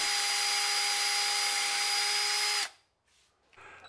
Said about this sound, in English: I used those marks to drill pilot holes for the screws.